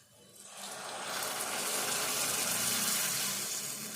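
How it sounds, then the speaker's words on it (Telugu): Tamarind water poured into a frying pan of dried fish fried in oil, a rising then steady rush of liquid and hissing sizzle lasting a few seconds, fairly quiet and close. "ఇప్పుడు చింతపండు సూపు పోసుకోవాలి"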